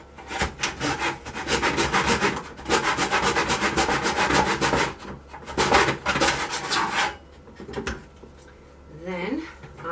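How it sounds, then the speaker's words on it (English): A hand saw cuts a mitre in the end of a wooden door panel, with rapid rhythmic back-and-forth rasping strokes in several runs close by, pausing between bursts. "So the first thing I do is cut one end, making sure the mitre is going in the right direction."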